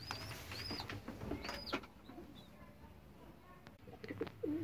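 Adana pigeon chicks coo softly in a loft, with a few low murmuring calls and wing rustles under faint background voices and hum.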